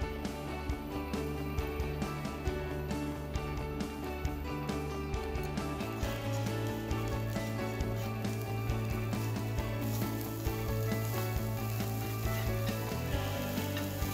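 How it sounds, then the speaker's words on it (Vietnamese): Grated coconut flesh is stir-fried with a spoonful of sugar in a pan, giving a steady soft sizzle that runs throughout beneath prominent background music. "ta xào cùi dừa nạo cùng với 1 thìa đường"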